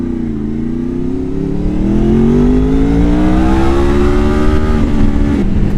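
A Honda VFR motorcycle with VTEC revs up close and loud while riding, its engine note rising steadily in pitch over several seconds before easing off at the end.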